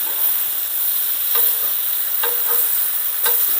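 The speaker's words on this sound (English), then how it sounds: "Anytime you sear meat and give it a good crust like that, it adds so much flavor." Beef seared in a hot pan gives a steady, moderate sizzle, broken by a few sharp scrapes and clinks of a utensil turning the meat.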